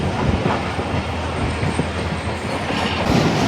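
Awam Express passenger train rolling past at close range near Kotri outer, a loud continuous rush of wheels with steady clickety-clack rhythm and faint wheel squeal, no voices.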